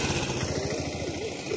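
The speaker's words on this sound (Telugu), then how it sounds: "ఆటోలు, స్కూటర్లు, బైకులు అన్నీ పోతాయి" A motorbike or scooter engine putters steadily nearby on a road beside a temple, a fairly close rhythmic idle-like drone with faint background noise.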